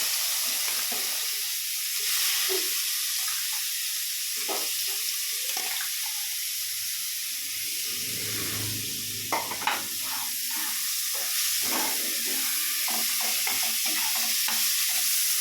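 Four large chopped onions frying in a pan, a strong continuous sizzle with intermittent stirring scrapes and a brief clatter midway, close and alone without voices.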